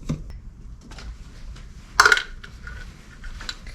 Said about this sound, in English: Get a little pot to put the screws in.